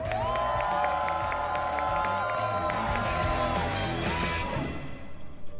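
A studio audience cheers and applauds at a televised youth talent gala, a steady loud crowd roar throughout. Rising and falling electronic sweep tones play over it.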